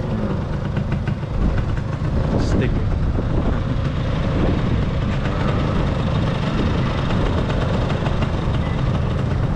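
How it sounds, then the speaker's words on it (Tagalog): A motorcycle engine idles steadily with a low, continuous rumble on Nanzhuang Old Street in Miaoli, Taiwan, running throughout while people talk nearby. "isa pang motor na maangas."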